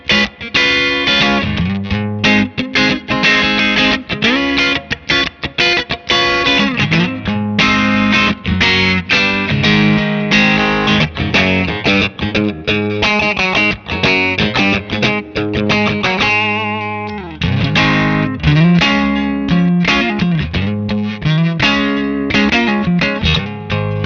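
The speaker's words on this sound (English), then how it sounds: "It kind of reacts more like a classic stompbox, where you kind of hear, that pumping effect." Electric guitar played through an Echo Fix EF-P5 FET compressor pedal, a dense distorted-sounding stream of chords and notes with a pumping, breathing swell in level, loud and continuous with no talk.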